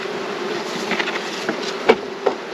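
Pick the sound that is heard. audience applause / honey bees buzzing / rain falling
honey bees buzzing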